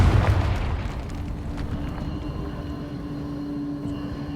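A Confringo spell explosion in Hogwarts Legacy: a loud, deep burst at the start that settles into a long rumbling roar with a steady hum beneath, fading slowly over several seconds.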